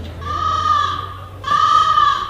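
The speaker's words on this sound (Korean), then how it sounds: "버스 안에 까마귀 소리가 요란하게 울려 퍼졌습니다." Two long, harsh cawing calls with a nasal, strained tone, each lasting about a second, loud and close, over a low steady hum.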